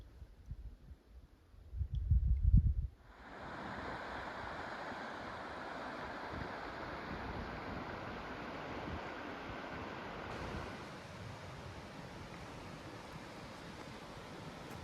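Rapids on the North River in Algonquin Park, Canada: a steady broadband rush of moving water beside a campsite that starts abruptly after a brief low thump, then continues evenly at moderate level.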